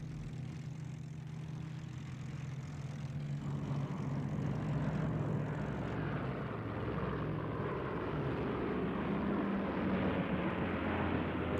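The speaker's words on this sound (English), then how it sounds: "the long-planned Japanese counterattacks by aircraft from the Philippines were unleashed on the" Propeller aircraft engines drone steadily and loudly in a World War II Japanese air attack on American carriers, a continuous low rumble with no voices.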